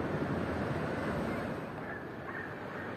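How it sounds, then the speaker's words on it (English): Gentle ocean waves wash in steadily at Puerto de la Cruz beach on Tenerife, a soft continuous surf hiss, fairly close and even, with light wind and no voices. "The waves are so gentle today."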